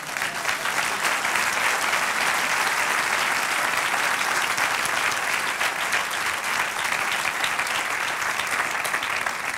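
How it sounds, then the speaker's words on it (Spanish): Sustained applause from a church congregation during a Spanish-language sermon, a dense, steady wash of many hands clapping throughout with no break and no talking over it. "Ahora dar un aplauso al Señor."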